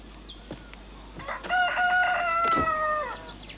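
A rooster crows loudly and drawn-out near the middle, with a few short clucks before it, no voices around.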